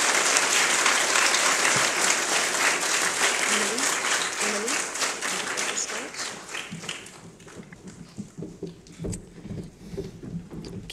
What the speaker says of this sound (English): We're going to clap for these first 8 children.